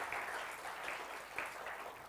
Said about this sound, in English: can we have a huge round of applause for the Wall of India, the legendary Rahul Dravid